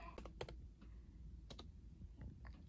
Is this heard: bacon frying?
no